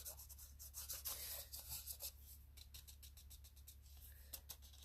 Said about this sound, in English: you will need to rub away the excess, and your fingers will do a very nice job of this for the most part